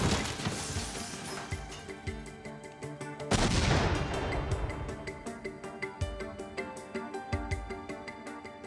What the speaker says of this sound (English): In an instant, the pipe bursts, sending razor-sharp fragments of steel and nails in all directions at deadly speed